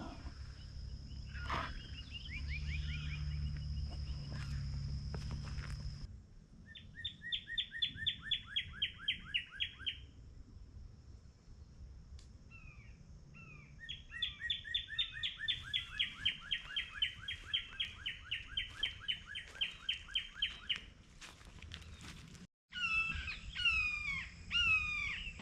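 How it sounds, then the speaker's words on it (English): Birds sing outdoors at Three Lakes WMA Prairie Lakes Unit, with repeated rapid trilling phrases and scattered chirps at moderate distance over a soft breezy background, plus a harsher call near the end. "Listen to the birds."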